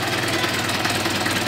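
A Mahindra 475 DI tractor engine running steadily, a low, even diesel rumble with a knocking pulse, close and continuous with no one speaking.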